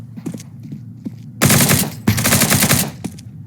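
Kalashnikov rifle fire in the video game CS2: a few quiet single shots, then two loud sustained automatic bursts close up, separated by a brief pause.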